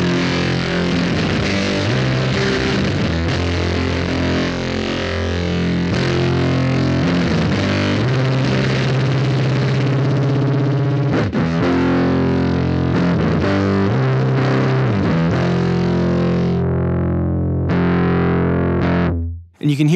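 A Noise Engineering Dystorpia fuzz module blended with clean signal produces a loud, dense, distorted synth sequence with rhythmic notes, cutting out in stuttered bursts near the end.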